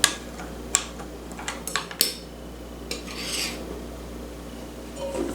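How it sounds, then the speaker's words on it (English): A spoon clinks and scrapes against a bowl while stirring active dry yeast, sugar and salt into milk, giving irregular sharp taps and rubbing strokes close by, with no talking. "Put our active dry yeast in there, our sugar, and our salt. And we're going to stir this."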